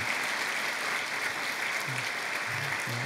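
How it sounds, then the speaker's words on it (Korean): Congregation applauding during a Korean church worship service, an even wash of clapping from many hands that carries on without a break, with faint low voice sounds late in the clip. "축복하는 마음으로 박수 한번 해주시죠"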